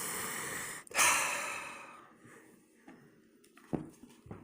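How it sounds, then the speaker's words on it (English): A single deep breath drawn in slowly and then let out, close and soft, during a calm energy-reading session with a selenite crystal, followed by quiet stillness and a few faint small noises. "take a breath"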